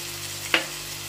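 Ground spices such as cumin, coriander, chili, turmeric and paprika with salt being stirred into a frying pan while cooking chicken liver, giving a single short, soft scrape and sizzle burst against a steady low hum.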